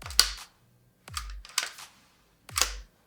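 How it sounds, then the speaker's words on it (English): The bolt of a KWA AKG-74SU gas blowback airsoft gun is cycled by hand, three sharp metallic clacks with short rattly tails spaced about a second apart, close and crisp in a quiet room. "The bolt coming back."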